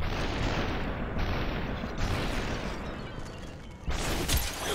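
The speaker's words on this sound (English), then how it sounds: "My bullet just collided!" Slow-motion gunfire and bullets colliding in the SUPERHOT video game, a dense, muffled rumble of shots and impacts that fades midway and surges back with a sharp burst near the end.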